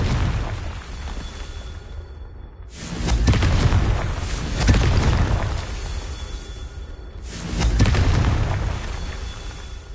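Repeated booming blasts from the Confringo fire spell in Hogwarts Legacy, two or three loud bursts a few seconds apart over a continuous rumbling game soundscape, with no talking.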